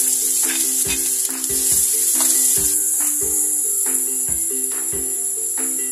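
Chopped onion sizzling in olive oil in a pan for a tuna and vegetable quiche filling, a steady close frying hiss with irregular crackles and faint clinks of a utensil, no talking.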